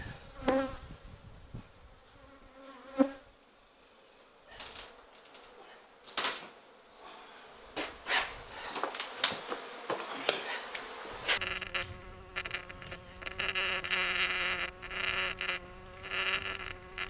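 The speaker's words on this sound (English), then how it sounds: "Alright, we've got the hive ready to come out." Honey bees buzzing loudly and continuously during a lakefront hive removal, with scattered knocks and handling clatter from the removal work, the swarm hum growing denser and fuller toward the end.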